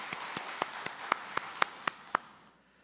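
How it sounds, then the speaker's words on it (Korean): A church congregation at a Sunday worship service claps in unison: about nine sharp, evenly spaced claps roughly a quarter second apart, then a quiet tail. No voices are heard. "하나님께 영광의 박수 올려드립니다"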